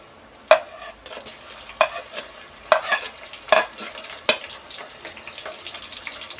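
Masala is stirred into browned onions frying for aloo matar pulao, with soft sizzling beneath sharp, evenly spaced spoon clacks against the pan, roughly six distinct hits.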